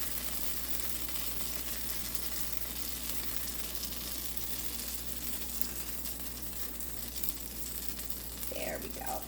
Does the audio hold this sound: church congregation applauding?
no